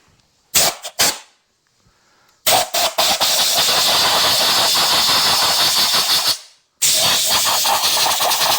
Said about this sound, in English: Now I cleaned it with brake cleaner.